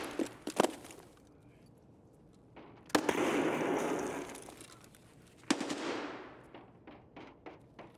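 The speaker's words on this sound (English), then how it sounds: "That's a grenade launcher." Grenade launcher rounds and explosions in the Tarkov game on the Factory map: sharp reports, then a loud rumbling blast that lingers and fades, followed by scattered rapid gunshot cracks.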